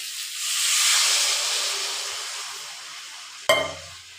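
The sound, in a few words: water poured into sizzling sautéed bamboo shoot curry in a pan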